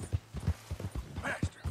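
Hooves of a flaxen chestnut Morgan horse in Red Dead Redemption 2 clip-clop in a quick, even rhythm, heard fairly faint and close with no voices over them.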